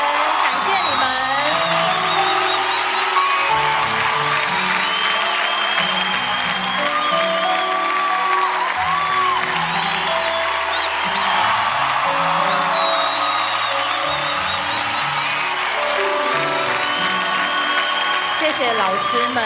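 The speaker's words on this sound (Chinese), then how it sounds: "然后廖承安老师、江玉成老师、孙少文老师、林哲杰老师、赖瑞欣老师以及陈怡文老师最热烈、最热烈的掌声，感谢你们" An audience applauds after a children's orchestra concert, with sustained loud clapping and a few whoops running throughout while a presenter speaks over it.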